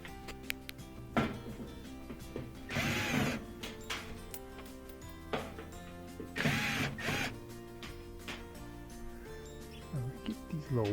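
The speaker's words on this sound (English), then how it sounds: "these are just Phillips head screws to get this off" Phillips head screws are backed out of a panel on a Miele washing machine with a screwdriver, giving close, quiet ratcheting clicks and two louder bursts of metallic scraping and rattling.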